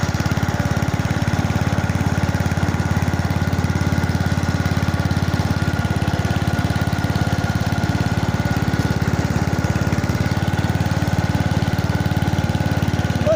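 The engine of a 1988 Simplicity 7116H garden tractor runs at low throttle as it drives around a yard, a steady, loud, close mechanical drone that holds unchanged throughout with no voices.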